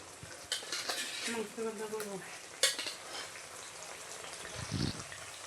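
Meat frying with onion, garlic and ginger paste and spices in a home kitchen, a soft steady sizzle with scrapes and clatter of a stirring utensil against the pot, and a voice speaking briefly over it.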